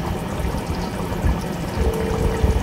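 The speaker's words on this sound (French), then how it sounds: "Alors maintenant je vais mettre notre pistache. On met comme ceci." Thick pistachio paste made from pumpkin seeds is poured gradually into a simmering Cameroonian sauce, giving a soft continuous wet sloshing and plopping over a steady low background.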